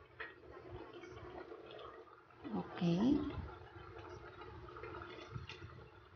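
Water gushes briefly into a cooking pot while making misua and patola soup with mackerel, a short splashing fill in the middle amid quiet kitchen noise, with a voice speaking softly.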